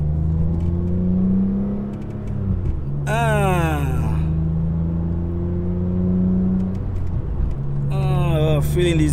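A BMW E46 M3 with an Active AutoWerke exhaust and SMG gearbox accelerates on the road, its engine rising through revs in two sharp climbs between steady cruising drone, with someone talking over it.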